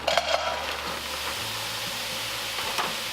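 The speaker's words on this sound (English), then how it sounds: "So I've got this nice big pan heating up, and no oil is in the pan." Trader Joe's frozen stir-fry vegetables tumble into a preheated dry pan, giving a steady broadband sizzle and hiss with a few clattering bumps early on, close and continuous with no talking.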